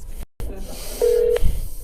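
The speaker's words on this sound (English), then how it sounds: "I want you to realize I'm calling her phone right now." Short phone tones sound as a call is placed: a brief electronic beep after a moment of silence, followed by a soft thump, with no talking.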